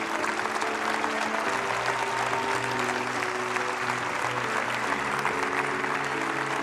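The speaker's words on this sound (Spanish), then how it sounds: "Vamos, ese aplauso es de celebración." Sustained celebratory applause from a church congregation fills the room, loud and steady throughout, with music and a few voices faintly underneath.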